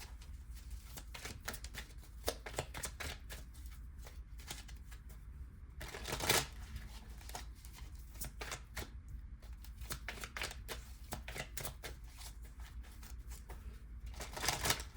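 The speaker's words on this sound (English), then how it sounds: "I'm going to pull some cards, some tarot cards, just to get final messages." Tarot cards are shuffled steadily for the whole stretch, a dense papery riffling and slapping with a few louder flicks, close and fairly quiet with no one talking.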